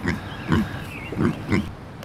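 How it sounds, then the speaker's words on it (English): American guinea hog pigs grunt close by on pasture, giving about four short, low, rough grunts in an even rhythm over steady background noise. "These pigs are American guinea hogs"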